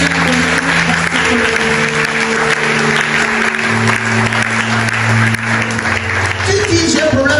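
A church congregation applauds and cheers to acclaim the Lord, a continuous loud wash of clapping over a sustained musical drone, with voices mixed in throughout.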